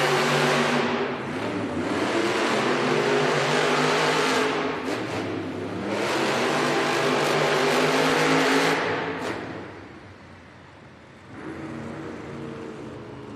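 Monster Jam trucks racing in an indoor arena in Allentown, PA, their engines roaring loud and revving hard, then easing off and picking up again near the end.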